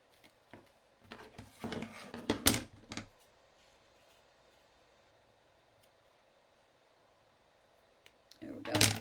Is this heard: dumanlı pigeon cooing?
no